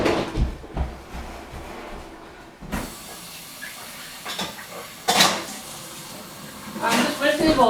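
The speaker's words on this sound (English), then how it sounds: "I'm just rinsing the bowl out" Water hisses from a kitchen tap while a bowl is rinsed out before deviled eggs are made, with a steady spray broken by splashing surges, clinks of dishware and occasional clattering near the sink.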